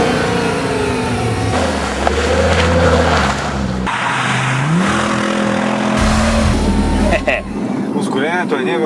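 A tuned 700 hp Audi RS6 accelerates hard, its engine note climbing through gears in loud rising sweeps with brief drops between shifts, heard from close by with some voice mixed in.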